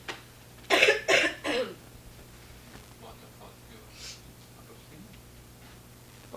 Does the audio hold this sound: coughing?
yes